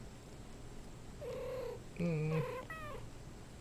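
Two or three cats meow and chirp back and forth, with a lower drawn-out cry in the middle, over a steady background hum. A person gives a brief murmur.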